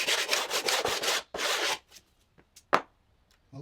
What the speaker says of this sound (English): You can just keep on sanding with them.